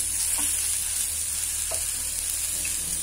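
Fresh pea kachori filling is stirred and mixed in a hot pan, with a constant dense sizzle and a few soft scrapes of the spoon. No voice is heard.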